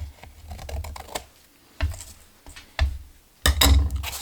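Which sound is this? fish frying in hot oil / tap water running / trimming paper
trimming paper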